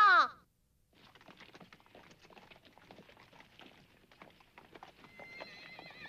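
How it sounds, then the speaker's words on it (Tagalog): A horse neighs sharply at first, then many horse hooves clip-clop and patter in a soft, continuous rush across the Mongolian steppe, with another whinny near the end. "Napakarami palang kabayo rito."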